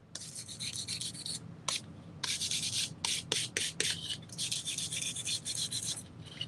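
Sandpaper rubbed briskly over a painted candlestick, a close, raspy scratching in long continuous strokes broken by short, quick passes, with no talking.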